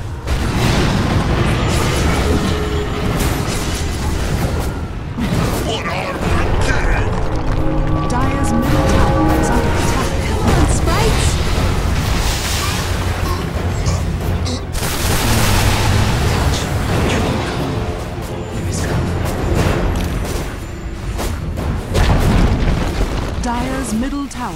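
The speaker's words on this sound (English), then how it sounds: "Dire's middle tower is under attack." Tower under attack in a Dota 2 match, heard as continuous loud booming blasts and impacts layered with game music and effects, with talk over the top throughout.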